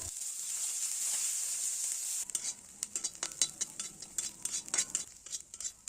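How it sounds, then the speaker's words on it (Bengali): Garlic, onion and dried chillies fry lightly in hot oil with a steady, close sizzle, then a spoon stirs and scrapes the pan in quick, uneven clinks while the frying goes on softly underneath. "এগুলো আমি তেলের উপরে হালকা করে একটু ভেজে নেব।"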